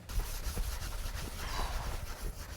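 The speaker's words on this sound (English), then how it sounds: "We're gonna take some Scotch Brite, and both of us are gonna get to rubbing it down." Continuous abrasive scrubbing as Scotch-Brite pads are rubbed over Damascus steel knife blades, a close, steady, gritty rasp with no pauses or talking.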